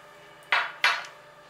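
Mutton pieces drop into a cooking pot in two distinct thuds with a brief metallic clatter, each fading quickly, then quiet; no one speaks.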